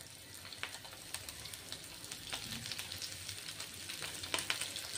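Rohu fish pieces coated in semolina and rice flour sizzle in a hot pan, a soft continuous crackle with scattered sharper pops as pieces are laid in one by one, fairly quiet and close.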